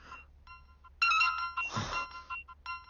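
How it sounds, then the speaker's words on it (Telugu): A phone ringtone plays as a repeating electronic melody of short tonal bursts, fairly loud and continuous, with a brief noisy swell in the middle. "మళ్ళీ వీడు ఫోన్ చేశాడు."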